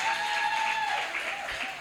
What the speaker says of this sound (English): give a round of applause for everyone that came on stage and shared their poetry with you